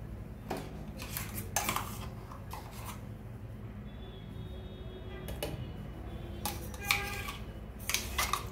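Almond paste being added to milk boiled for masala milk and stirred in a metal pot, faint clinks and scrapes of a spoon against the vessel recurring irregularly over a quiet background.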